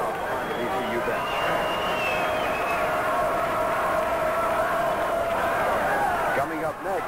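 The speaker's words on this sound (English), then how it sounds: "Now a standing ovation for Robert Dickerson as he receives the products of that Virginia Commonwealth crowd on the VCU bench." Crowd at a 1985 Virginia Commonwealth versus Alabama college basketball game applauds and cheers in a sustained standing ovation, a dense steady roar under a commentator's voice.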